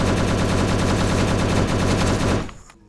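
Sustained automatic gunfire in the zombie survival game Last Hope Bunker, a loud, dense rattle of rapid shots that runs steadily for over two seconds before cutting off and fading.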